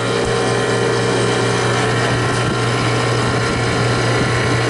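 A walk-in cooler's refrigeration unit, converted from a pizza walk-in freezer, runs loud and steady with its compressor drone, a low constant hum beneath a dense mechanical rattle, continuous and alone.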